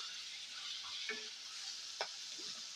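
Vegetables and tomato fry in a pan for foxtail millet upma, giving a bright steady hiss with a couple of brief utensil clicks, close and free of talk.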